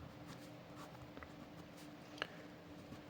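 A pen or pencil writes an answer by hand during a class 7 math lesson, making faint, soft scratching strokes with a few small taps against a quiet room hum.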